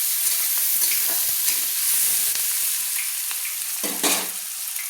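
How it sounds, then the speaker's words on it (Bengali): Chopped onion frying in a pan until lightly browned, a loud, steady sizzle with scattered crackles and occasional scraping stirs, close by and without talk. "দিয়ে একটু হালকা হালকা লাল লাল করে ভেজে নিচ্ছি।"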